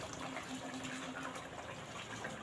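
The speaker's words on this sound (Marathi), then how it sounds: "आता जे आपण तांदूळ, बासमती तांदूळ झाकून ठेवले होते पाणी घालून, त्यातलं पाणी काढून टाकायचं." Soaking water poured off basmati rice for a vegetable pulao makes a faint, steady trickling gush that runs without a break.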